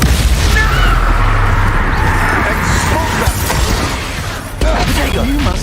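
An Incendio fire spell blasts in Hogwarts Legacy, a loud booming burst that merges into sustained crackling combat noise with dense game effects.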